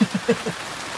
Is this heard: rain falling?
yes